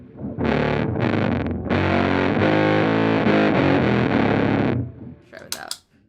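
Electric guitar through a BOSS OC-5 octave pedal in polyphonic mode, thick doubled chords and riffs played for several seconds, then a brief burst of noise and handling at the end.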